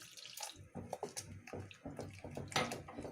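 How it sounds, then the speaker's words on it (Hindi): Water is poured into a pan of spinach curry thickened with gram-flour batter, a soft splashing, gurgling stream heard quietly and close, with no talk. "और इसमें पानी डाल देंगे।"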